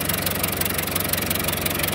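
A 1911 Buick overhead valve engine with exposed pushrods and rockers idles steadily nearby, a rapid mechanical ticking and knocking over a low, even drone.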